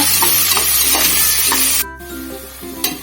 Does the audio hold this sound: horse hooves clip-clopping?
no